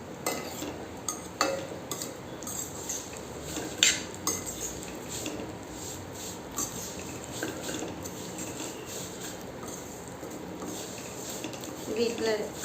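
A spoon stirs semiya payasam with milk in a pot, scraping and clinking against the metal in irregular bursts, with someone talking quietly underneath.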